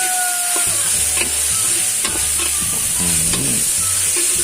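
Minced pork with straw mushrooms stir-fried over high heat in a pan, with a continuous loud sizzle and repeated scraping, clinking strokes of a spatula against the metal.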